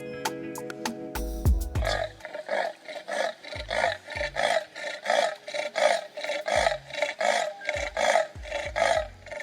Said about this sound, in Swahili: Hiyo ni sauti ya mnyama chui.